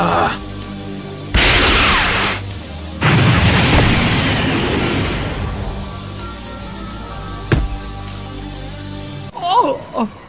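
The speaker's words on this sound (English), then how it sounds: "Go to hell, Frieza! Literally! Big Bang Attack" Big Bang Attack fired in a Dragon Ball CG video game: loud, booming energy blasts and a long rumbling explosion roar that fades, followed by a sharp crack and brief game vocal sounds.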